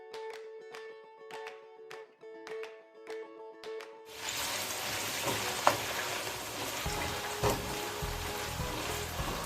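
Cubed potatoes shallow frying in hot oil for aloo chaat, starting with a few ringing metallic clinks before a sudden burst of dense, crackling sizzle that continues steadily to the end.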